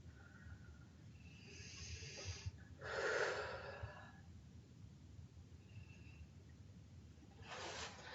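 Breathing during dynamic stretching exercises such as lunges and hip flexor stretches, quiet huffing exhales and a louder sharp breath near the middle, spaced irregularly over a faint background hiss.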